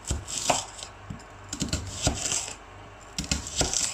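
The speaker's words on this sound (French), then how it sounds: "je vais pas couper en petits morceaux parce que moi j'aime bien retrouver les oignons" Onions are chopped with a knife on a board in a home kitchen for a white bean and tomato dish, with sharp irregular knocks coming in quick clusters and short pauses, close by and without talk.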